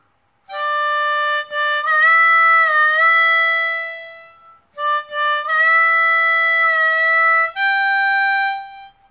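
A harmonica plays the intro of a song, starting on hole six, a simple melody in two long phrases, notes bending slightly, loud and close with a short pause in the middle.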